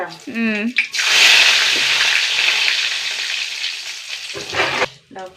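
Curry leaves hit hot oil in a home kitchen pan and burst into a loud, close, steady sizzle that slowly fades over several seconds, with brief speech just before and after.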